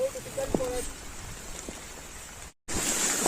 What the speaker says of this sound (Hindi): इस पॉइंट तक बारिश काफ़ी तेज हो चुकी थी